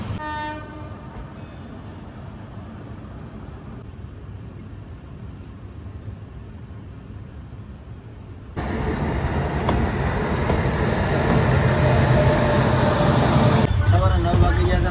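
A passenger train rumbles along, heard from inside the coach: a quieter steady roll with insect chirring at first, then a sudden louder, denser clatter and roar that holds to the end.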